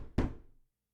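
A single solid knock thuds once in a Sherlock Holmes: The Devil's Daughter game scene, a short dull impact that rings briefly and fades into silence.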